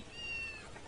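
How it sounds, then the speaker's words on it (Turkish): A single short, faint cat meow from the video game Postal 2, a brief tonal cry standing alone against quiet background noise. "Kedi."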